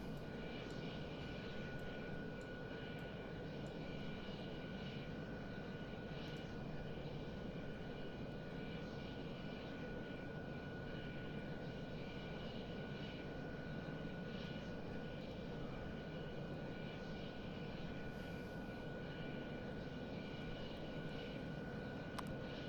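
MiG-21Bis jet engine thrust in the Prepar3D flight simulator, a steady, continuous cockpit roar with a constant tonal whine, holding level without breaks throughout.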